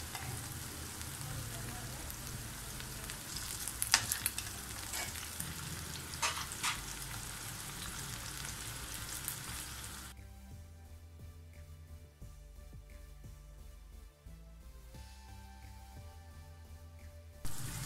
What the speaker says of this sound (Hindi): मीडियम लो फ्लेम के ऊपर हम इसको फ्राई कर लेंगे